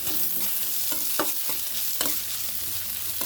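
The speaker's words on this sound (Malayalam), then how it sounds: "ഇളക്കി കൊടുക്കുക." Onion, curry leaves and mustard seeds fry in coconut oil with a constant crackling sizzle, broken by several sharp scrapes and knocks of a spoon stirring the pan up close.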